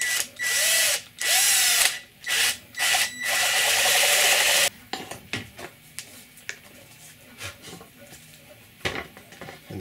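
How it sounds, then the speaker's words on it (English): A 7/8 inch spade bit drills through tough Lexan sheet, whining loudly in several bursts with pauses, then giving way to quieter scraping, clicks and handling noises. "Now we'll use a spade drill bit, 7/8 inch spade drill bit,"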